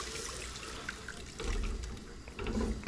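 Beef broth pours into a pot for ropa vieja, a steady liquid splash with a louder, fuller surge midway and again near the end.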